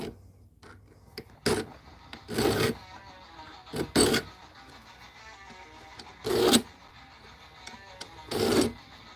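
Short rasping strokes of a triangle file on a workbench, coming in separated bursts of one to two seconds with quiet pauses between them, fairly close and alone.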